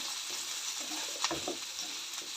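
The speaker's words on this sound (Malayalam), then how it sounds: "ഇതപ്പോൾ ഉള്ളിയും തക്കാളിയും കൂടി ഇട്ട് കൊടുത്തിട്ടുണ്ട്." Onions and tomatoes frying in a pan for a sardine fish curry with kanthari chillies, giving a steady close sizzle with a brief stir-like rustle in the middle.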